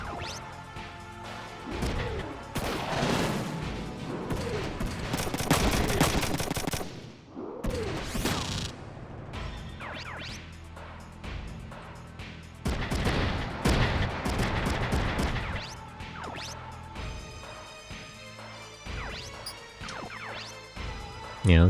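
Shotgun fire and heavy battle blasts in the mecha strategy game Front Mission 3, loud bursts coming in several waves amid explosive crashes and game music.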